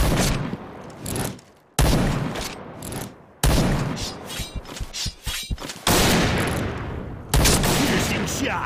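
Sniper rifle fire from the TACTiLiTE T2 in a first-person shooter, several loud, sharp cracks in quick bursts with short gaps between them, mixed with game effects and an announcer voice.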